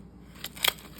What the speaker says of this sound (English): You just use the scissors, a kitchen scissors, and run it up like that.